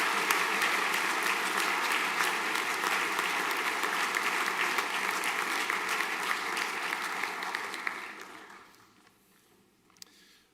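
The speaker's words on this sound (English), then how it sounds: "Now you can applaud the winners." Audience at a senior school prizegiving applauds the trophy winners, sustained, even clapping that carries for about eight seconds before fading away to near silence, with one last sharp clap at the end.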